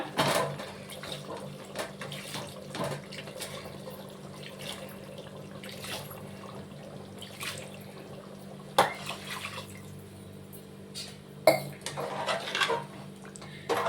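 Water is poured into biryani masala in a cooking pot, a splashing pour mixed with clinks and knocks of utensils against the pot, close and moderately loud, with no speech.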